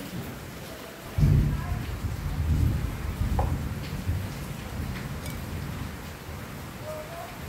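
Steady rain falls through a Philippine rainy-season power outage, with a low thunder rumble swelling in near the start and rolling on under the continuous wash of rainfall.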